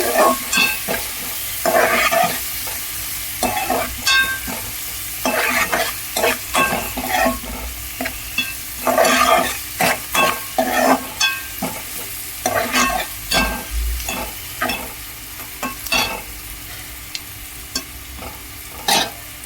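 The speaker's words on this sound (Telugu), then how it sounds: "ఆనియన్స్ కాస్త వేగాలండి. వేగుతూ ఉన్నాయి కదా." Onions fry with turmeric in a pan for a colocasia curry, a soft sizzle broken by repeated bursts of a spoon stirring and scraping at an uneven rhythm, close by.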